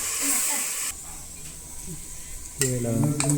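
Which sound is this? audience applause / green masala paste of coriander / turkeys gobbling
green masala paste of coriander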